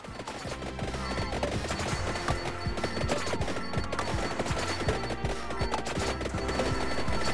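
Weapons fire nonstop in Vampire Survivors, a dense, loud barrage of rapid overlapping shots and impacts that runs without a break over busy game noise.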